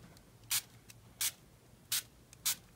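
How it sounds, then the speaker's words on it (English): Ink sprays onto a stamp and a hand in four short, soft hissing bursts, evenly spaced against a quiet background. "Now see how it sprayed out onto my hand?"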